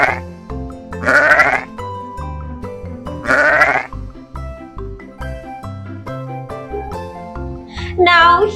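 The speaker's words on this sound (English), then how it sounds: "can you make the sound of a sheep?" A sheep bleats in two loud, drawn-out cries over bright children's learning-song music, followed by a shorter bleat near the end.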